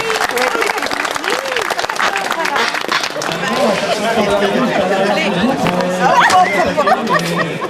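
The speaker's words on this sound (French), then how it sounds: "On peut l'applaudir très fort, Gwenaël Simon." A crowd claps and cheers for the winner at a cycling race prize ceremony, loud applause mixed with chatter while an announcer's voice speaks over it.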